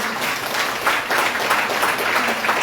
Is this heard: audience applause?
yes